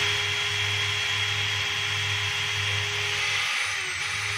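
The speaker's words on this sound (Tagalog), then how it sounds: "Ang problema, pag pinipisil mo, pahinto-hinto yung andar niya," A DeWalt DCD791 cordless drill with a fault runs steadily with its trigger held, its motor whine holding close and loud, then briefly dropping out near the end before resuming.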